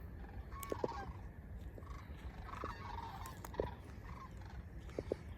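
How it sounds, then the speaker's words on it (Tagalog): Scattered bird calls and short honking cries ring out over a low, steady outdoor rumble, some near and some farther off. "Daming ibon talaga dito."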